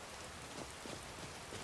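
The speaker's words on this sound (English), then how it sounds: "I really don't mind the rain" Rain falls in the video game Skyrim, a dense, steady hiss of droplets spattering on surfaces, soft and even throughout with no other sounds rising above it.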